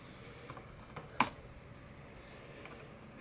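Keys tapped on a computer keyboard connected to a PowerBook G4 running Windows NT 4, with a few sparse, faint clicks and one sharper keystroke, close and quiet in a still room.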